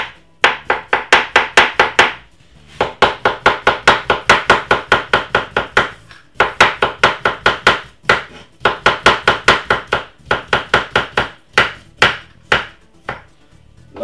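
A knife chopping a small cucumber on a board, rapid loud rhythmic strikes in quick bursts separated by brief pauses, close up and with no voices.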